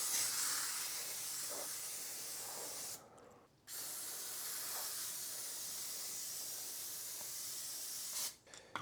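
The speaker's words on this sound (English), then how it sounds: "we're going to use this cooking spray" Cooking spray hisses onto a skillet in long, steady bursts with a brief pause between them, close and fairly quiet with no talking.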